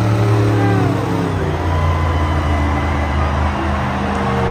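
A green toy monster truck runs with a steady mechanical whir and buzz, fairly loud and continuous, with a faint voice in the background.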